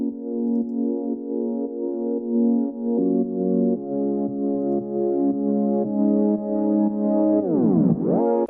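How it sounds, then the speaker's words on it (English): A simple Serum synth patch plays a sustained chord layer for a song's chorus, shifting through several chord changes and ending in a sweeping pitch bend; loud, clean and alone. "So we're starting the chorus with this chord layer, which sounds like this."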